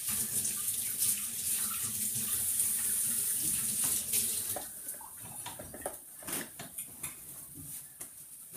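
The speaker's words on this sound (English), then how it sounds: "I'm gonna go wash my hands." A bathroom or kitchen tap runs into a sink while hands are washed, a steady hiss for about four seconds, then quieter splashes and scattered drips as the flow stops, with no talking.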